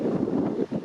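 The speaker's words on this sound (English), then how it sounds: "A good windy day out here." Wind blows across an outdoor site where workshop walls are being sheeted, giving a brief, continuous buffeting roar against the microphone.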